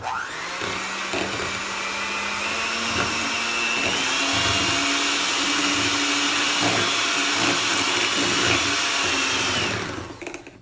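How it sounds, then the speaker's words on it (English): Electric hand mixer whirring steadily as it beats raspberry truffle brownie topping in a bowl, a continuous loud motor drone with a faint pitch rise, running alone for about ten seconds before cutting off. "The mixer's getting in the way. Alright. Mixing once more."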